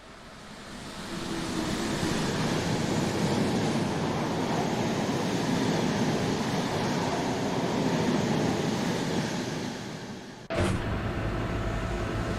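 A second train rumbles past in Train Sim World 3 on the Linke Rheinstrecke line, a loud, sustained roar that swells in and holds steady, then cuts abruptly to a quieter rumble near the end.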